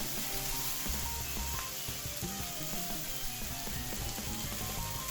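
Butter with crushed garlic sizzles steadily in a hot pan beside a beef steak, a continuous crackling fry at close range with no talking.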